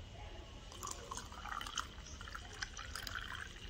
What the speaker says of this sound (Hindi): पानी डालो,